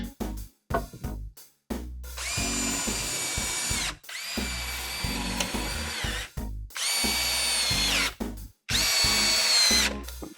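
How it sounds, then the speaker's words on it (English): A power drill drives screws into model railroad layout tops in four loud whirring bursts, each spinning up, holding a high whine and stopping, separated by short pauses with light handling clatter. "Let me put the rest of the screws in."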